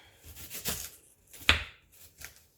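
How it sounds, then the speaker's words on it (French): Kitchen knife finely slicing a peeled onion on a board for beef bourguignon, a few separate close chopping knocks with a sharp tap near the middle, fairly quiet with pauses between cuts. "on émince l'oignon finement"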